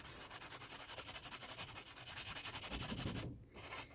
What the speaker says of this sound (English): I'm just going to really gently rub off all that excess there